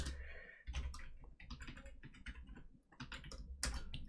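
Fast, steady typing on a computer keyboard while writing JavaScript code, close and clear, with dense rapid keystrokes and brief pauses between bursts.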